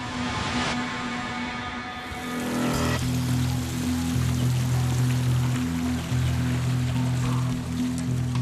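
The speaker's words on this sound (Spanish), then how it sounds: "El agua." Water flowing steadily with a continuous rushing wash, moderately loud and close, with a low hum underneath and no voices.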